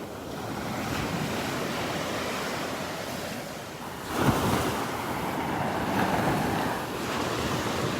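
Ocean waves rolling onto a beach on a windy morning, a steady loud wash of surf with wind buffeting the microphone and one heavier wave breaking partway through.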